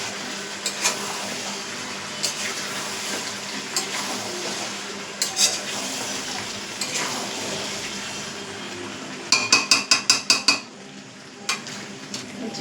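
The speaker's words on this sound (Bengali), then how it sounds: "আর এই যে চিকেনটা একদম ভালো করে কষাচ্ছি এদিকে" Chicken is stirred and sautéed in a frying pan, with a steady low sizzle and spatula scrapes that turn into a quick run of sharp metallic scraping near the end; no one speaks.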